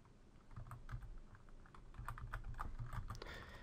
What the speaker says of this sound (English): Now this is going to ask me for my password, which came in the email, so I'm just going to type that in.